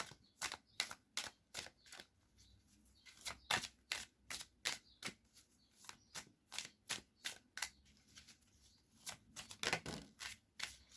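Oracle cards being shuffled and drawn: a quick, fairly even run of crisp close-up riffling slaps and flicks that continues throughout at a soft level, with no voices.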